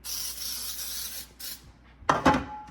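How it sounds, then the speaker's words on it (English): Baker's Joy baking spray hisses in a few short bursts as it coats a cake pan, with a longer spray followed by quick close rubbing and scraping sounds. "I want to spray it down with this Baker's Joy just because I don't have a springform pan"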